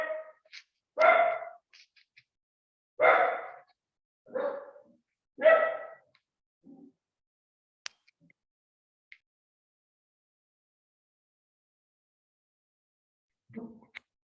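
A pet dog barking indoors, five or six loud close barks spaced about a second apart, then a long quiet stretch with a few small clicks and a final short bark near the end.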